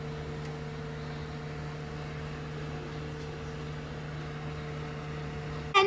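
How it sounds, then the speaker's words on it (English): A microwave oven heats milk for hot chocolate, giving a steady low electrical hum and whirr with fan noise that holds level throughout, ending in a short sharp click or beep at the close. "Repeat the process of putting it in the microwave."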